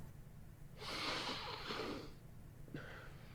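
A man sniffs once in a long, loud inhale lasting over a second, followed by a brief second sniff, close to the microphone with no talk.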